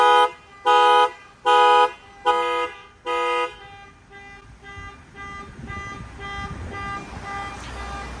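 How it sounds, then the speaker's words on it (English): A loud car alarm beeps in five sharp, evenly spaced bursts, then its tone fades into a wavering electronic warble over faint background noise. "I'm literally sitting on one of the cars that's beeping."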